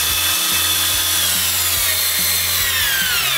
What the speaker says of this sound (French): Donc ensuite, je visse.